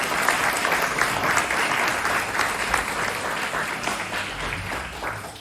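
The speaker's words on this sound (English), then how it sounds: "Please give them a round of applause." Sustained applause from an audience at a community gathering honoring village volunteers, a dense steady clapping that holds at an even, fairly loud level throughout and tapers only slightly near the end, with no talk over it.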